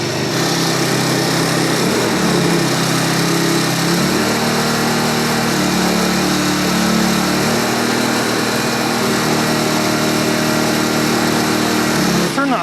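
A tiny jet boat's small engine idling on the water, a loud, steady high-pitched buzzing drone that holds even throughout before cutting off near the end, with voices talking over it.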